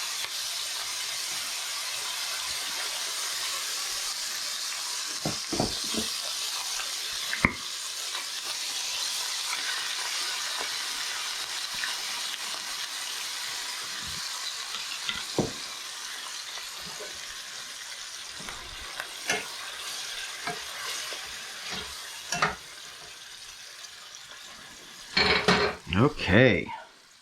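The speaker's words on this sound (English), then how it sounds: "Now, this is where we add our salsa. Watch out, it is going to steam up and it is going to sputter" Salsa hitting a hot pan with braising chicken, giving a steady sizzling hiss that holds throughout, broken by scattered clinks and scrapes of utensils and a burst of clattering near the end.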